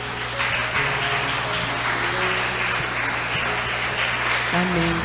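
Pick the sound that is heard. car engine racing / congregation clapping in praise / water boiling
congregation clapping in praise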